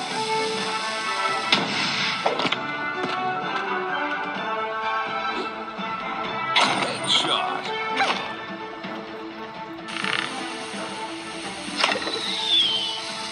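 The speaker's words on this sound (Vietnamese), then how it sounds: "người ta bắn một quả pháo" Cannon shots in a video game burst out as a few booming, crashing hits over continuous game music, spaced irregularly across the stretch.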